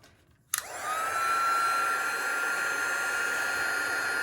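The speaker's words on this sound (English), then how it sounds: "now I just need to heat it up with my embossing heat tool" An embossing heat tool switches on abruptly and blows hot air over powder-coated stamped paper, settling into a steady, close whooshing roar with a thin motor whine that continues without pause.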